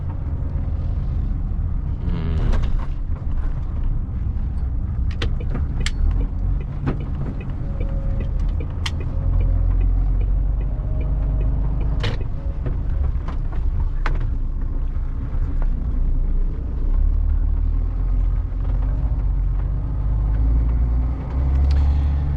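HGV lorry reversing out of a tight spot it got stuck in, a steady loud diesel engine rumble with occasional clanks and knocks throughout, no talking.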